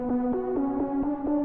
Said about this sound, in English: Next up, we have this lead that is also filtered.